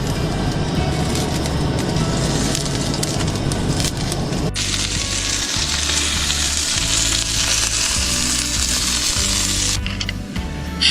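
French toast and sausage sizzle steadily in a pan outdoors at a forest campsite, a continuous close, loud frying hiss with a brief stir or shift partway through.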